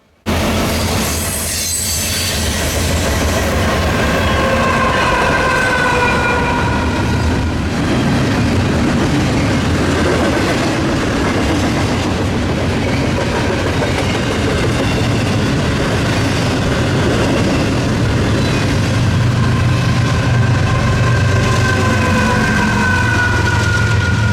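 A long freight train rushes past at close range, eastbound, its wheels and cars roaring steadily with high metallic squeals and rattles running throughout, loud and continuous with no talking.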